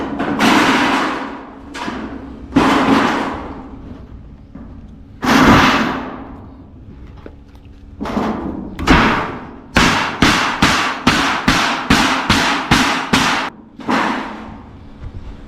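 Heavy hammer blows strike the cap of a cement block, first scattered and then in a quick regular series of sharp cracking impacts, close and loud.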